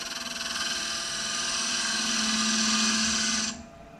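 A scraper cutting wood on a lathe while turning a baby rattle: a continuous, steady whirring scrape with a humming tone, close and fairly loud, that cuts off abruptly near the end.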